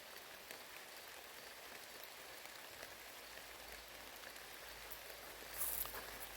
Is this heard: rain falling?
yes